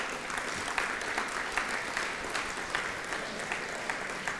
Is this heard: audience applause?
yes